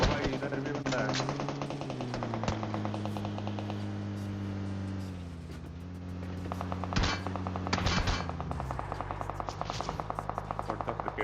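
Rapid automatic gunfire from the mobile battle royale game PUBG Mobile crackles in dense bursts across the stretch, loud and close, with a short lull in the middle before firing resumes.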